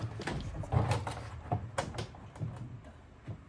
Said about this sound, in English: Soft close. Both doors work.